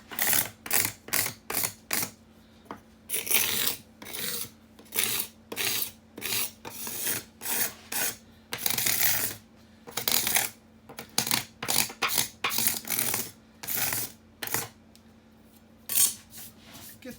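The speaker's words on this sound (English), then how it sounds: "I just take a card scraper and kind of scrape off some of the glue so it doesn't jam up the sander" A card scraper drags across glue on a guitar body in short, sharp strokes, about two dozen rasping scrapes in irregular bursts with brief pauses, close and clear with no talking.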